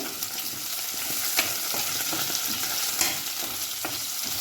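A few potato pieces fry in hot oil in a pan for a pabda fish mustard curry, with a continuous close sizzle and occasional spoon knocks as they are stirred, and no talking.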